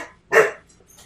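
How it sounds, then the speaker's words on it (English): A dog gives a single short, close bark indoors, followed by a faint trailing whine. "And that's my dog."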